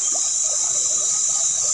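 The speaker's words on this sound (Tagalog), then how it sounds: "Ayan, may ilog dito guys." River water flows steadily with a bright, continuous hiss and soft trickling gurgles, close and constant throughout, with no voices.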